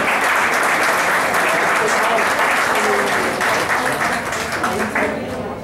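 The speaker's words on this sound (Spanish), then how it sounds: "Un aplauso para él, por favor" At a high school graduation ceremony, the audience gives a graduate a loud round of applause, dense continuous clapping that stays strong and then eases slightly near the end, with speech faintly mixed in.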